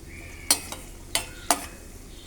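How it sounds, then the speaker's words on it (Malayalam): Cashew nuts frying in a pan for halwa give off a soft, steady sizzle, broken by four or five crisp scrapes and clacks of a spoon stirring against the metal. "കശുവണ്ടി നമുക്ക് നല്ലതുപോലെ വറുത്ത് കോരിയെടുക്കാം"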